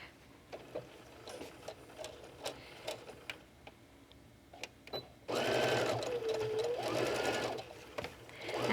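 Sewing machine topstitching fabric for a beach bag, first a few quiet ticks, then a loud continuous whirring run, close by.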